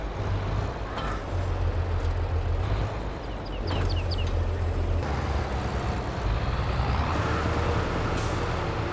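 A truck in the video game Farming Simulator 22 idles with a low engine drone while its air brake releases in loud hissing bursts, close and with no talk over it.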